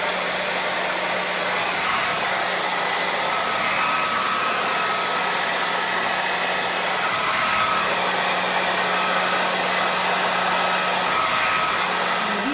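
Hair dryer with a diffuser attachment drying curly hair, blowing as a steady loud continuous whoosh with a constant motor hum throughout, with no voices.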